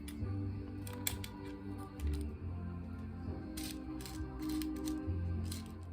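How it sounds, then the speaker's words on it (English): Small scissors snip through a bead string in an artist's studio, giving a few sharp, close metallic clicks spread over several seconds while soft music plays underneath. "while I cut my bead string"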